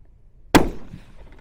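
A single sharp 300 PRC rifle shot from a 24-inch barrel firing 225 grain Hornady ELDM factory ammo, loud and close, with a rolling echo that trails off across an open range.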